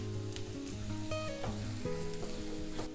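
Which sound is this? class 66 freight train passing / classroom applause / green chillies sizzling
green chillies sizzling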